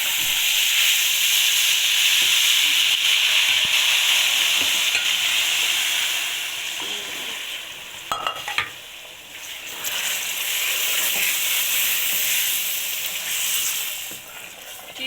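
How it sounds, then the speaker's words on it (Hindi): Sugar syrup pours into roasted semolina in a pan, giving a loud, steady sizzling hiss that eases partway through, then rises again as stirring scrapes on. "अब मैं इसमें शीरा डालूंगी।"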